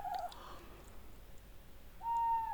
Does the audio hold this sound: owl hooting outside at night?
yes